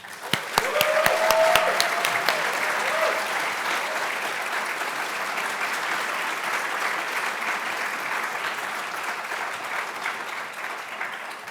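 An audience at an evening contemporary art exhibition event welcomes a speaker to the stage with sustained clapping. It opens with a few sharp individual claps, swells into full applause, then holds at a dense, steady level.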